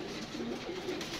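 A pigeon coos softly in a short, low, throaty phrase, faint against a dull background hum and heard with no talking.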